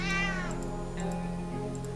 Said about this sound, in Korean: 가방 속에서 고양이가 나온 거야?